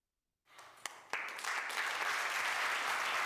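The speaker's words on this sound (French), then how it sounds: "On revient sous un tonnerre d'applaudissements" Applause from an audience rises after a couple of sharp claps, quickly swelling into steady, dense clapping that holds at full strength.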